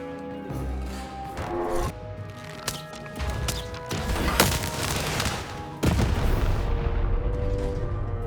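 A bomb goes off in the Lost in Random video game: a series of loud, deep booms and crashes, the heaviest blasts landing near the middle and end, layered over a dense game soundtrack.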